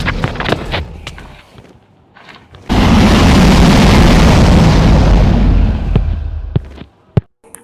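End crystals blow up in the Minecraft video game as one loud blast, which then rumbles on as a dense, sustained roar for about four seconds, with scattered sharp game clicks and pops around it.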